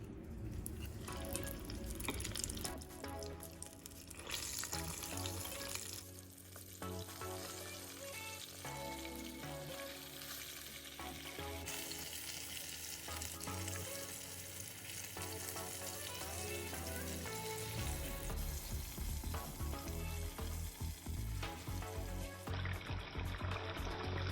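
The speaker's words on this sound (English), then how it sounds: "Okay guys, so I'm actually gonna fry them 3 times." Pieces of Japanese chicken karaage deep fry in hot oil, a loud, constant bubbling sizzle that runs on without a pause, with shifting crackles and the occasional clink of a utensil.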